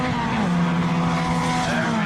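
Locost club race cars on the last lap of a 750 Motor Club race, engines howling loud and continuous with a slightly falling pitch as they pass, backed by tyre noise.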